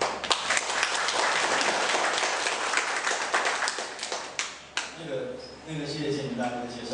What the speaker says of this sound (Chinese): 那我们现在就以热烈的掌声欢迎志德